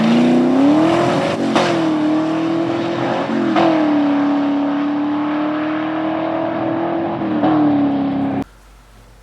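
A stick shift wagon accelerates hard through its gears, the loud engine note rising and dropping at each of three quick shifts before cutting off abruptly near the end.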